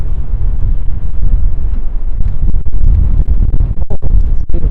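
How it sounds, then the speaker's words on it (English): Wind gusting into the microphone while walking along Whitehall Street near Battery Park in New York City, a loud, steady low buffeting rumble with brief dropouts near the end. "it's a bit windy"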